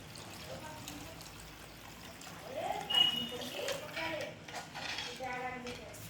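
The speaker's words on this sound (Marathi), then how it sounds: "थोडं रसा करायसाठी पाणी घालते" Water being poured into a simmering curry to make gravy, a soft trickle and splash from nearby with faint pan clinks, with a voice murmuring partly over it.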